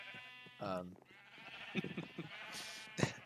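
Minecraft sheep bleating on a Skyblock island sheep farm, a few short bleats heard among people talking, moderately close and spaced out.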